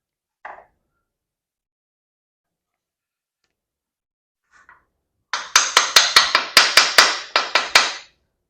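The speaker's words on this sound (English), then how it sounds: "Very light tap with the hammer." A small hammer lightly taps crankshaft bolts on a small-block Chevy V8 being installed in an S10 pickup. One faint tap sounds, then after a pause a quick run of about ten sharp, crisp metallic taps, close and clear.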